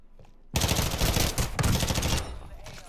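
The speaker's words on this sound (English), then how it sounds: "I stopped shooting because I thought he'd die." Loud, sustained automatic gunfire in the Warzone 2 video game on the Vondel map, played on Xbox, erupts after a brief quiet and rattles steadily for about two seconds before easing off into quieter game noise.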